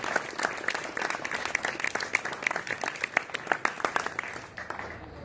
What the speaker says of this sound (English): Please give a round of applause to Jules Fallon.